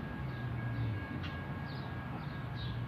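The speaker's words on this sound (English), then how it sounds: "I don't know if you can hear it in the distance, there's a train coming." A distant train approaches in Dodge City, Kansas, heard as a steady low rumble with a faint sustained tone, continuous and fairly even.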